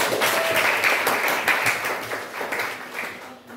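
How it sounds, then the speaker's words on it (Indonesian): Students in an Indonesian classroom clap together in a short burst of uneven, fairly close hand claps that gradually thin and fade toward the end. "Kasih tepuk tangan dulu dong."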